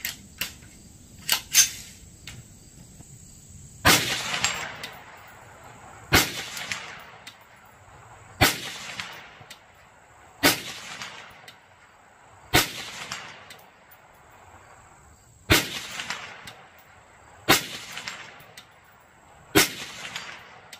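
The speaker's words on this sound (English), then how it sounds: "We're just pegging that thing there at about 130 yards, that little 8-inch steel plate." Rifle shots at an outdoor range with a CVLIFE red dot sight, aimed at an 8-inch steel plate about 130 yards away. Eight or nine sharp reports come at a steady spacing of roughly two seconds, with insects buzzing faintly in between.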